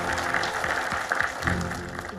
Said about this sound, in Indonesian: Tepuk tangan dulu dong, ibu-ibu